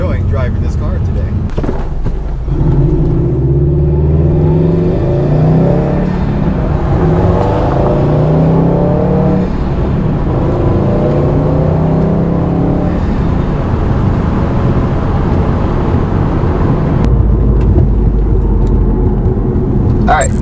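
A Subaru WRX STI drives and accelerates, its engine droning loud and close as revs climb in rising sweeps, easing off in the middle and pulling hard again near the end.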